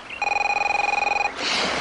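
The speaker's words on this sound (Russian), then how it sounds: "Звонят." A telephone bell rings in one steady, continuous burst of about a second, loud and close, then cuts off into a brief rustle.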